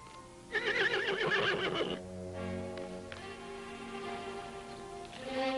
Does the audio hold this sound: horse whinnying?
yes